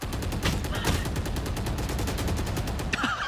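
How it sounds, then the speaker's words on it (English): Rapid gunfire from a Valorant match in a G2 vs T1 Masters Bangkok grand final, a dense stream of repeated shots continuing steadily throughout with no talk over it. "he's letting the bullets whiz by"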